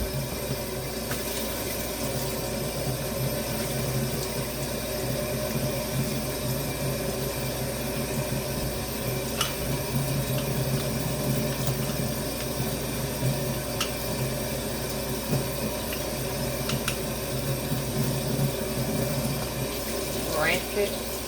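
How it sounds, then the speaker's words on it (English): Tap water runs steadily into a sink while a plastic soap dispenser lid is rinsed under it, a continuous close splashing with small spills and clatters, and a voice talks at times over it. "You just run it in some water."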